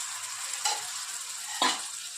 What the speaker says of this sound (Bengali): কয়েক সেকেন্ড আরও আমি করে ভাজবো।